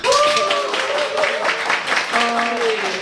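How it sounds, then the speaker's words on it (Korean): Applause from an audience at a Future IT Talk lecture event at Kyung Hee Cyber University, a steady wash of clapping mixed with voices and cheering throughout the three seconds. "다시 한번 응원의 박수 부탁드리겠습니다"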